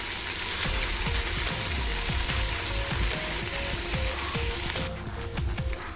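Garlic ginger paste and onions fry in a pan with a steady, dense sizzle and crackle, punctuated by rhythmic scraping of a spoon stirring through the mixture.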